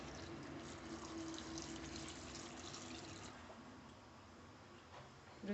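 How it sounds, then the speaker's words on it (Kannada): Water pours into a pot of chopped vegetables (tomato, chilli, onion, garlic) in a home kitchen, a faint continuous splashing stream running steadily for several seconds with a small clunk at the end. "ಈಗ ತರಕಾರಿ ಎಲ್ಲ ಮುಳುಗಷ್ಟು ನೀರು ಸೇರಿಸ್ಕೊತೀನಿ."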